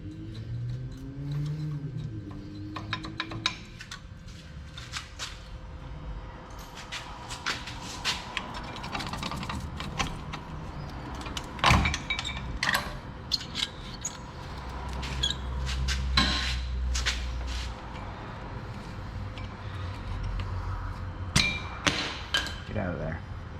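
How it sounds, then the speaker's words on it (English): A brake caliper is removed from a 2006-2012 Ford Ranger, with scattered metallic clanks, taps and clicks of tools and parts at close range, irregular and sparse over a quiet background. "Go ahead and remove our caliper and position that out of the way."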